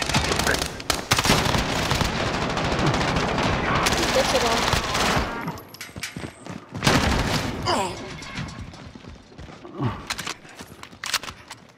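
Rapid bursts of MAC-10 submachine gun fire in a Modern Warfare video game, loud and dense at first, then broken into shorter volleys and single shots with scattered impacts.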